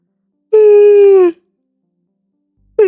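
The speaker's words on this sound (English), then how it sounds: "That's a tired yawn" A drawn-out tired yawn, one loud voiced moan of just under a second that slides downward in pitch and trails off into silence, with the start of another yawn or breath at the very end.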